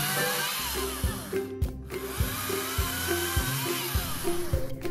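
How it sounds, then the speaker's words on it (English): A chainsaw cuts away trees blocking a snowy trail, its engine revving in repeated surges with rhythmic pitch dips as the chain bites into wood, loud and close with no talk. "Dad will use his chainsaw to cut away the trees blocking our way."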